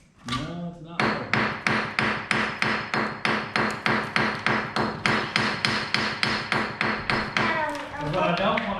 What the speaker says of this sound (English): I can actually take care of that with a hammer.